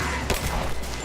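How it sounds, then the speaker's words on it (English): Gunfire in the Tomb Raider video game, a quick burst of sharp shots with one clear crack standing out amid a dense combat din. "Open fire! Give me suppression fire!"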